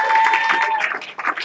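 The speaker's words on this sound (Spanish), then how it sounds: "Un aplauso al Señor" A church congregation applauds together in praise during a service, a dense patter of clapping over a sustained held tone, loud and close for a brief burst with a slight dip near the end.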